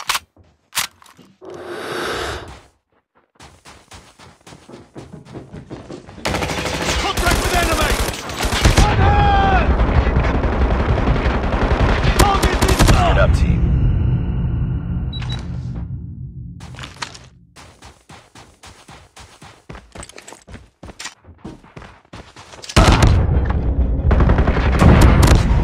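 Dense bursts of rapid gunfire from a Call of Duty video game, loud and sustained through the middle, with sharper isolated shots and quieter gaps at either end.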